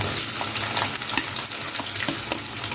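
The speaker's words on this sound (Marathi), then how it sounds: "इथे आपला कांदा फ्राय होत आहे" Onion fries in hot oil with crushed garlic for a gavar bean dish, a dense continuous sizzle close up, with faint stirring scrapes under it and no talking.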